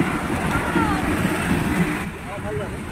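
Strong wind gusting over open water, rumbling into the microphone with a steady roar that eases toward the end, while people talk over it.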